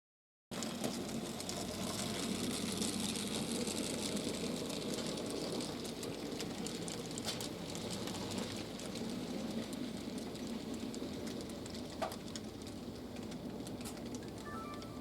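An HOn3 model freight train on a Marshall Pass layout rumbles past Forks Creek with a steady mechanical whir and faint clicking, continuous and fairly quiet.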